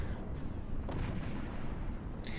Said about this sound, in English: the explosion from the plasma beam is so big and destructive